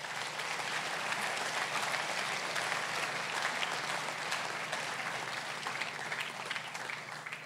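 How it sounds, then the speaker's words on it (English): An audience at a school prize-giving ceremony applauds the outgoing governing body, a steady, dense wash of clapping from many hands that holds evenly throughout without a break. "please give them a round of applause for their contributions"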